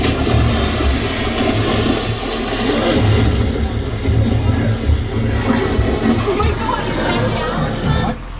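A staged Sully plane-crash scene on the Universal Studios Hollywood backlot tour gives a loud, steady airplane engine roar mixed with splashing, rushing water, with a voice talking over it.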